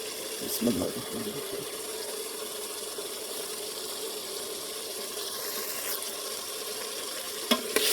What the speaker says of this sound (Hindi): अभी हम इसमें शामिल करेंगे, फिर इन दोनों को साथ बुनाई में लगाएंगे इंशाल्लाह।